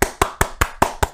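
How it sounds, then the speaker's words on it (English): A small group of friends at a 21st birthday gathering claps in unison, six sharp, evenly spaced claps in just over a second, close and loud. "Clap it up."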